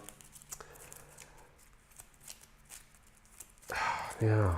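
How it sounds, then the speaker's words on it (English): Pandemic board game cards shuffled by hand, a soft papery riffle and rustle close by, running faint through most of the moment before a louder burst of handling near the end as a voice breaks in. "every time I do that, I feel like I have to reset the damn shuffle"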